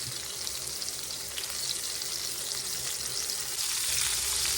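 Pork chops fry in a cast-iron skillet with a steady, dense sizzle and crackle that swells slightly near the end; no one speaks.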